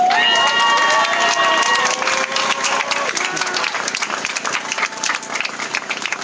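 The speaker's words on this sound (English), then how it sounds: "Let's give a round of applause for Diego for that powerful speech." A crowd at a Black Lives Matter march in Hegewisch applauds after a speech with dense, steady clapping that fills the whole stretch, with a few whistles and cheers near the start.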